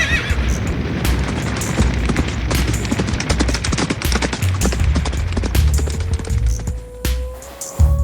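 Horses whinny and neigh amid a dense, loud crackling roar of burning caravans and clatter of hooves, chaotic and close, with a rising tone near the end.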